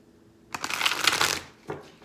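Tarot cards being shuffled close by, a quick papery riffle of rapid flutters lasting about a second, then a short second burst after a pause.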